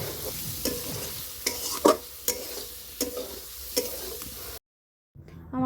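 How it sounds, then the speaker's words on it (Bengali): Shrimp sautéed with spices in a pan, a spoon stirring in steady scraping strokes over a continuous sizzle, fairly close, before the sound cuts to near silence at the end. "চিংড়ি মাছ দিয়ে একটু কষিয়ে নেবো"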